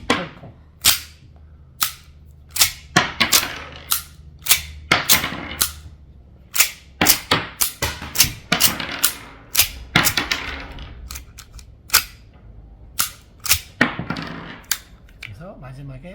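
Steyr prop dummy gun with a working extractor being cycled by hand, sharp metallic clacks and snaps of the action in irregular clusters, close and crisp with quiet gaps between.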